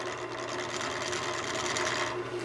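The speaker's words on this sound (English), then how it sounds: "you can hear that stuttering sound. That's because we're not round." A steady, rapid stuttering chatter of a chisel cutting out-of-round wood on a spinning wood lathe, close and continuous with a rough, rasping edge.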